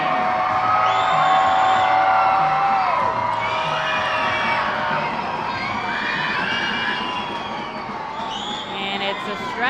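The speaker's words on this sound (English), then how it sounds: "man, the crowd is roaring here" Fans at a minor league baseball stadium, the Reading Fightin Phils hosting the Hartford Yard Goats, roar loudly and continuously with shrill shouts and whoops, the din swelling and easing slightly over several seconds.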